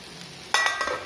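Okra (ladies finger) stir-fried with masala in a pan, a low background hiss that breaks into a few bursts of scraping and sizzling, close and fairly loud, with no talking.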